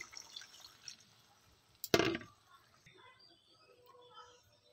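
A small splash of water is poured into a simmering bottle gourd curry: one short, bright gush in the middle, with faint drips and quiet kitchen sounds before and after.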